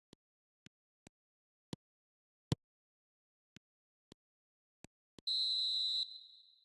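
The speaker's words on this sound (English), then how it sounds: "there goes the whistle" Referee whistle at the end of added time in eFootball 2026: a short burst of sharp clicks or taps, then a single long shrill whistle blast that rings out and fades.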